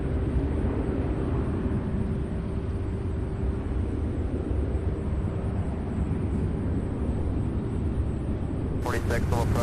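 An airplane at SDF airport in Louisville, Kentucky, produces a steady broad roaring drone throughout, with radio chatter audible near the end.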